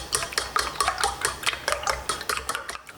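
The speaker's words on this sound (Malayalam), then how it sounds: "അപ്പം മുട്ട നമ്മൾ ആദ്യം ഉപ്പിട്ടിട്ട് കലക്കി വെക്കണം ഒരു പൊടിക്ക് ഉപ്പിട്ടിട്ട് ജസ്റ്റ് ഒന്ന് ബീറ്റ് ചെയ്ത് വെക്കാം" Eggs with a pinch of salt beaten briskly in a bowl, a close, rapid series of sharp rhythmic clicks and taps from the utensil against the bowl, alone with no voices.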